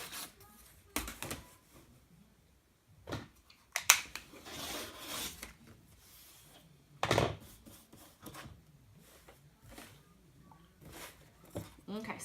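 Scissors trim the edge of quilted bag fabric in a few short, scattered bursts of snipping and rubbing, close but fairly quiet, with long gaps and some talking in between.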